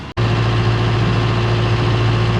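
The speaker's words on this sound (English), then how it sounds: "Get the PTO speed back up to 540." A tractor engine powering a Woods SG100 stump grinder through the PTO runs loud and steady after a brief dropout at the start, with a strong constant hum and drone.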